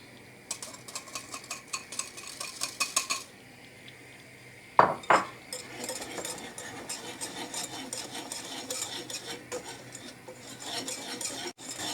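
A utensil scrapes and clatters against a pan while flour is stirred and toasted for a homemade soufflé, with brisk rhythmic rasping at first, one loud knock, then steady softer scraping.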